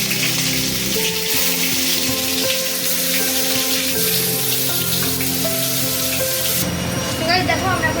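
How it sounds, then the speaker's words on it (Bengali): Onion and tomato frying in sunflower oil in a pan, a steady crackling sizzle like rain on a surface, close and continuous, with faint background sounds and a brief clatter near the end. "সবাই দেখো আমরা এখন পেঁয়াজ আর টমেটোকে একটু ফ্রাই করছি"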